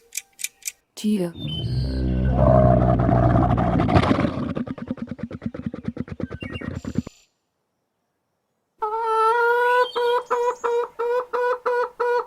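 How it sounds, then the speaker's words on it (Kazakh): Camel vocalizing, a long loud gurgling groan with a harsh pulsing rumble, then a pause and a series of rhythmic bleating calls, close and alone. "Түйе"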